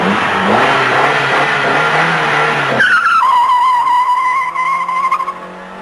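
A 1985 Ford Escort GTI pulling away hard with wheelspin, its engine roaring loud and close before a sharp tire squeal takes over and holds steady for several seconds, with no voices.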